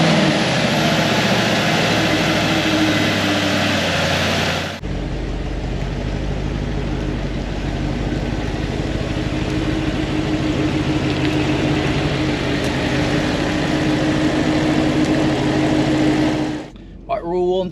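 An Audi B8 RS5 V8 with a freshly fitted Eventuri intake and a carbon clean fires up with a sudden loud roar, then settles into a steady, close, throbbing idle that runs for about twelve seconds before cutting off.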